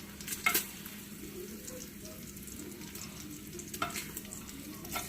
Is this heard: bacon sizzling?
yes